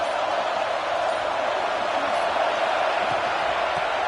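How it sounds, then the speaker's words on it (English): Steady, dense roar of a fired-up football stadium crowd early in a game, a continuous broadband wash of voices at constant loudness with no distinct individual sounds. "this crowd is fired up. Listen to this noise here."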